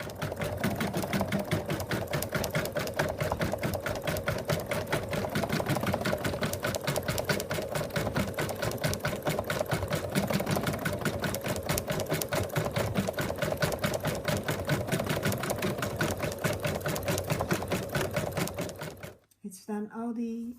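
An embroidery machine stitches an in-the-hoop moose applique design with a fast, steady, mechanical needle rhythm that runs loud and unbroken for about nineteen seconds before stopping.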